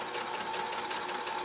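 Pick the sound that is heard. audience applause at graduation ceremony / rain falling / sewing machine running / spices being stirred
sewing machine running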